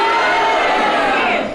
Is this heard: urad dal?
no